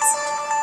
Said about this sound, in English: I'm sorry about my phone that's like right here by the